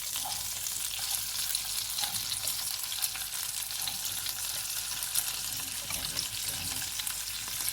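Cauliflower and chicken frying in a pan, a steady close hiss and crackle of sizzling oil with faint stirring pops throughout.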